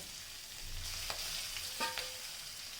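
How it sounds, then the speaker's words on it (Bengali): Small hilsa fish fry in hot oil with a soft, continuous sizzle and a few light clicks of a utensil turning them, quiet and close, with no talking. "এই জন্য মাছগুলো আগে ভেজে নেব ইলিশ মাছ দিয়ে রান্না করব"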